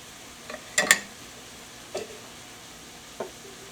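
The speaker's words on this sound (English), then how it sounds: "I'm going to mix up some muffin mix, cornbread muffin mix" A spoon scrapes and knocks a few times in a bowl of cornbread muffin mix, quiet isolated strokes spaced apart with near silence between them.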